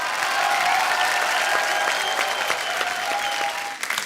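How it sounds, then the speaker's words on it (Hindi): Studio audience applause on a comedy talk show set, a loud, dense wave of clapping that holds steady before tapering off near the end. "खुल के तालियां हो जाए हमारे आज के सारे मेहमानों के लिए"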